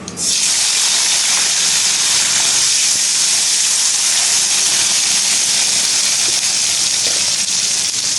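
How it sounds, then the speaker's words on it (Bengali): Tomatoes hit hot oil already seasoned with panch phoron, dried red chilli and bay leaf for khichuri, setting off a sudden loud sizzling hiss that stays strong and steady throughout. "এবার দিয়ে দেব টমেটোগুলো"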